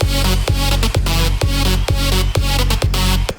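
A bright, dry synth lead plays a steady pulsing pattern of repeated notes, loud and upfront with sharp rhythmic cuts and no lingering tail.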